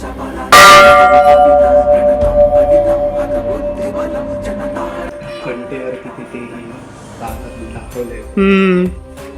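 A large old temple bell from 1737 at the Swayambhu Rameshwar temple is struck once, loud and close, its ringing tone decaying slowly, with voices and a second clang near the end.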